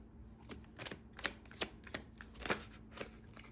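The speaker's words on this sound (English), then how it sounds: "let's go ahead and shuffle and see what comes out for you," A tarot deck being shuffled by hand: a string of quick, crisp riffling snaps in irregular bursts, close and fairly quiet against a calm background.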